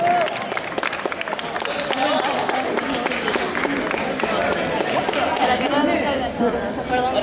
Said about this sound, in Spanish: ¡Fuertes aplausos para el jurado!